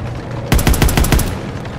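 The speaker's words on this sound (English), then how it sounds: "first platoon's taking heavy fire!" Video game machine gun fire in Call of Duty: a loud, rapid burst of about eight evenly spaced shots lasting under a second, set against a steady battlefield background with no voices in the clip.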